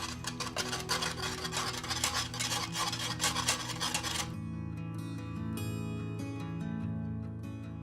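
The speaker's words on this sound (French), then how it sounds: "je vais mélanger ça une petite minute" A utensil scrapes and rubs against a bowl as gelatin is stirred into a no-bake blueberry cheesecake mixture, a dense rasping rhythm for about four seconds that then stops, leaving only a soft background tone.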